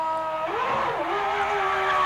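A 1996 Ferrari Formula One engine held at revs during a pit stop at the Australian Grand Prix in Melbourne whines loud and close, its pitch dipping and rising again before settling into a steady high howl.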